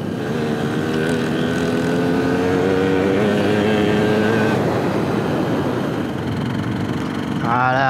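A motorcycle engine drones steadily while riding, loud and close with a humming tone and wind noise, ending in a short rising rev.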